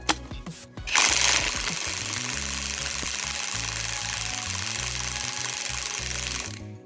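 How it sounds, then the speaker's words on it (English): An impact wrench or power tool spins a bolt out with a 5/8 socket on a Pontiac Grand Prix during a coilover install, a sharp burst followed by a steady loud rattling hammer for about six seconds. "go ahead and get your socket on there, 5/8. Now that it's nice and tight, you can go ahead and take this bolt off now."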